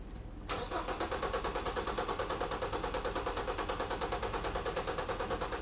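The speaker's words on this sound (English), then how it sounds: "So let's have Jimmy crank it over and see what we get." A car engine cranks over with the fuel pump relay pulled, the starter turning it in a fast, even, rhythmic chugging that never catches, close and continuous after a brief quiet start.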